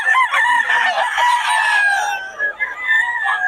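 Gamefowl roosters of high-station bloodlines crow and cluck on a farm, several birds overlapping in loud, near, continuous calls, with a faint voice briefly in the background.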